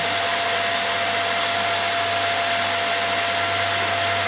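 A steady, loud electric cooling fan whir from a Telwin Force 165 welding inverter, with a constant tonal hum, running evenly throughout with no pauses.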